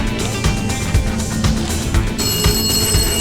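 A telephone rings in a studio with a bright, continuous jangling trill, loud and close, repeating in quick pulses with no voices.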